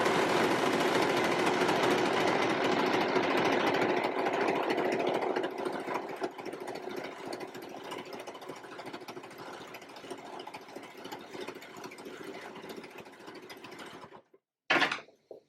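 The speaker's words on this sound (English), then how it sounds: "And then just trim that off at the end and sew it the rest of the way." Sewing machine stitching elastic along a seam of a reversible top, a steady close mechanical whir for about fourteen seconds that slows slightly midway, then stops, followed by a brief clunk.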